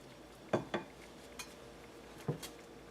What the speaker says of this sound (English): we're just going to take our shell, spoon the mixture right in